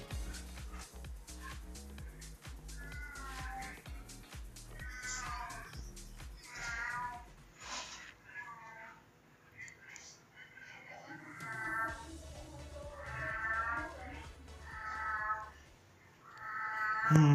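A cat meowing again and again: drawn-out, wavering calls that come in clusters, fairly close, over a steady low background hum.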